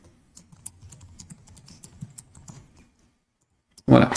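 Rapid, uneven clicking of a computer keyboard being typed on, including a Ctrl+C copy shortcut, continues for a few seconds, then stops before a short, louder burst of noise.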